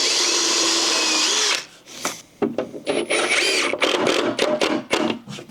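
Power drill driving screws into deck boards over a concrete slab: a sustained close whine for under two seconds, then scraping, clattering wood handling and short knocks.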